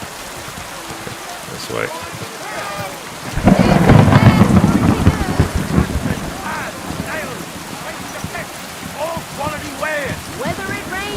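Rain pouring down in Kingdom Come Deliverance 2 with a loud rolling thunderclap building and fading over several seconds, steady rainfall continuing beneath, and someone speaking briefly at times.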